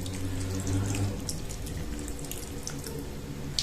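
A little water runs from a tap into a clay baking pot holding pork with prunes and Mavrodaphne wine, a steady close splashing stream with faint drips.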